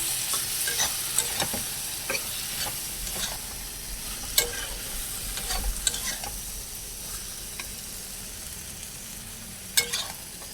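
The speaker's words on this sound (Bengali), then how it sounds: "এতিয়া মই ইয়াত পিচি থোৱা সৰিয়হ আদা নহৰু পিঁয়াজ এইখিনি আটাইবোৰ দি কিনে লৰাই দিছোঁ" Okra stir-fried in a pan with ground mustard, ginger, garlic and onion, a soft steady sizzle broken by scattered sharp scrapes and clinks of a spatula, no speech.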